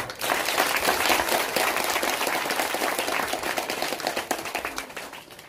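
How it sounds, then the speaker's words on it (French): A crowd at an outdoor donation event bursts into applause, with dense clapping that swells at once and then slowly thins, individual claps becoming distinct toward the end. "Je vous demande de les applaudir."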